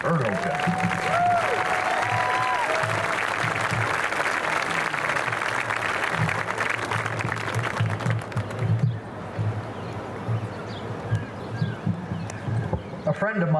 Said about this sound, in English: please give a warm Riverview round of applause to Dr. Chuck Ertlejack